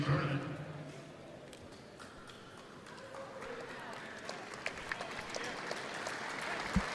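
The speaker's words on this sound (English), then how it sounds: "getting an applause" Scattered applause and crowd noise at a wrestling all-star event in a large, echoing venue, with an announcer's voice talking over it.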